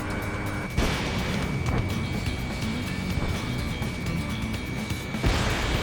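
Ace Combat 7 aerial combat in progress: dense, continuous rumble of jet engines and gunfire with a heavy boom near the start and another blast near the end, loud and without talk.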